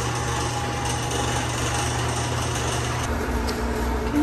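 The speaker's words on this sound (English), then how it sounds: "sorry for the loud fan." A loud exhaust fan runs inside a campground shower building, a constant close whirring drone with a steady low hum that barely changes throughout.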